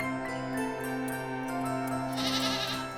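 A goat bleating in a cartoon story, a sustained wavering bleat with a strong steady tone, clear and close, with a brief brighter burst near the end.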